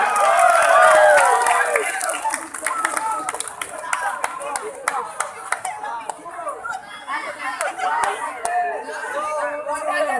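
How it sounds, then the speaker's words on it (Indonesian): Audience clapping at a Likok Pulo dance performance during a cultural arts show, loud at the start, then thinning into scattered claps amid crowd chatter, with voices talking over it. "Mari tepuk tangan semuanya."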